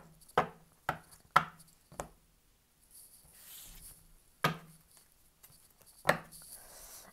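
Cards being cut and tapped on a table during a tarot reading, a series of short, sharp, close-up knocks and slaps with brief shuffling rustle between them.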